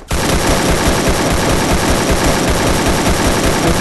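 Continuous, loud gunfire from a final battle in the Free Fire mobile shooter, a dense unbroken automatic burst that fills the whole stretch with no talking over it.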